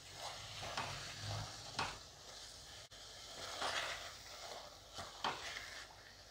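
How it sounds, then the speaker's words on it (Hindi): Sprouted chickpeas fry in a pan, a soft steady sizzle broken by several scraping stirs of a spoon, faint and close with no talk. "मैं स्प्राउट किए हुए छोले को अच्छे से फ्राई कर लूंगी"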